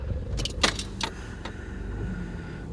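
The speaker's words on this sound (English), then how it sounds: "now I'm going to go ahead and start the vehicle." Car keys jangle close by in a few bright metallic bursts, then a car engine rumbles low and steady underneath.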